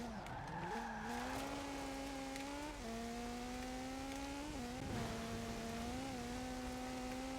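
A Peugeot rally car on BF Goodrich rally tyres in Forza Horizon 4, driven off-road with all-wheel drive: a steady engine drone whose pitch climbs and settles as it accelerates and shifts, with tyre scrub throughout.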